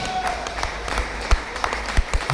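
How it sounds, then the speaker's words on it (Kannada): Scattered clapping at a competition prize announcement in Mangalore, with a few sharp, louder claps standing out over a steady hall murmur, fairly close and continuing throughout. "1 ಲಕ್ಷದ ಕ್ಯಾಶ್ ಪ್ರೈಸ್, ಜೋರಾದ ಚಪ್ಪಾಳೆ ಬರಲಿ."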